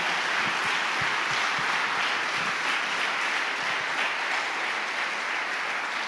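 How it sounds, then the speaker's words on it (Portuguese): A church congregation at a Sunday service applauds loudly and continuously, a dense wash of many hands clapping that holds steady throughout without any speech. "aplauda bem forte a palavra do nosso Deus"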